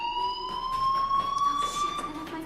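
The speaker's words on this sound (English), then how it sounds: "do you hear that fire alarm? That means you should be outside." Fire alarm going off in the video game Life is Strange, a steady high electronic tone with faint pulsing, moderately quiet under some light background sound, with no talk.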